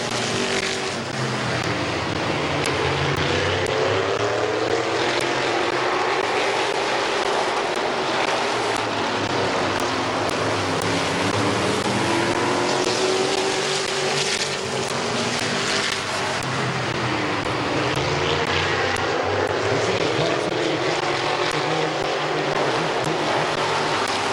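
Modified division race cars roaring around the oval at Midvale Speedway, a steady loud blend of engines heard from trackside with passing engine notes rising and falling throughout.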